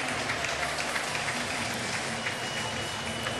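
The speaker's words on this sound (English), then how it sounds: "he got a smattering of applause as he came to bat" Scattered crowd applause greets the batter Santana at a baseball game, a thin, steady patter of distant clapping with stadium murmur and no one speaking.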